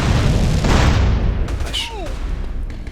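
A rocket launcher blast in GTA San Andreas booms loudly and close, followed by a decaying rumble with a couple of sweeping whistling tones trailing off.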